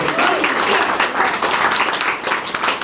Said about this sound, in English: round of applause, front page.